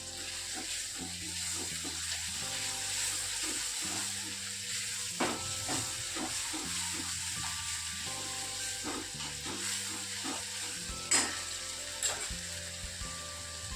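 Chopped onions fry steadily in a pan as they cook to brown for a Ratlami sev curry, a continuous close sizzle with occasional stirring scrapes over soft background music.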